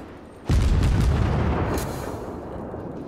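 Heavy artillery shells firing and exploding in a naval warship game, a sudden loud boom followed by a sustained rumbling roar that slowly fades, with no voices.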